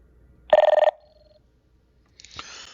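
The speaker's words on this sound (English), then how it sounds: "So this is the sound that the radio will make." An XTS two-way radio gives a short, loud electronic trill as its zone change alert, followed by a faint tail and a quieter burst of static or tone about two seconds later, in a quiet room.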